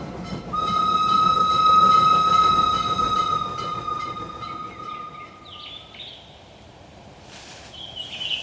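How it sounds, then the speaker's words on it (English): A westbound Union Pacific train rolls steadily along the rails, its loud rumble carrying a long, sustained whistle-like tone that fades, leaving a quieter rolling noise with brief squeals near the end. "We'll just need to catch that westbound Union Pacific train instead."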